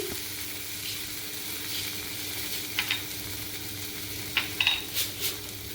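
Grated coconut and sugar are sautéed in a pan, with a low, steady sizzle broken by a few light metallic clinks and scrapes of a spoon near the end.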